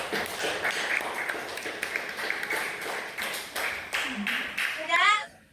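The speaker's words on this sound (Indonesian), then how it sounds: "tepuk tangan dulu untuk teman" Classroom of pupils claps for classmates after a presentation, a lively patter of many hands near and loud, with children's voices mixed in and a brief spoken word at the end.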